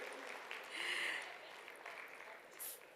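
Audience applause at a live summit and awards event, a faint, distant wash of clapping that swells near one second and tapers, with a brief sharper burst toward the end.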